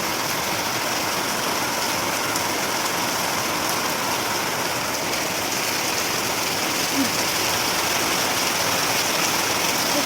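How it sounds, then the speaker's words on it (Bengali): Heavy rain pours in a steady, unbroken roar, loud and close, with no pauses or voices over it. "দেখো কি দারুণ বৃষ্টি পড়ছে"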